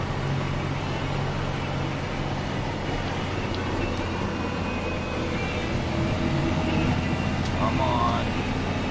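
Snow plow truck pushing deep drifts over the front of a big plow during a blizzard at 2 a.m., a loud steady engine drone and rumble with constant broadband noise throughout, a voice cheering over it.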